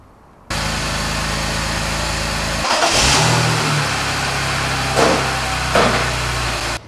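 A BMW Z3 engine cranks and catches after a tune-up, then settles into a loud, close idle broken by several quick throttle revs that swell and fall before it cuts off.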